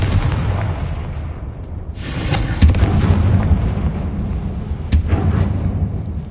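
A Confringo explosion spell goes off in the Hogwarts Legacy video game as deep, rumbling booms, with sharp blasts around two and five seconds over continuous low roaring, loud and close.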